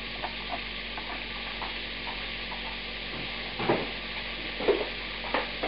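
Cabbage and shallots fry in a pan, a soft, fairly faint steady sizzle with a few light scraping taps from stirring toward the end, no voices.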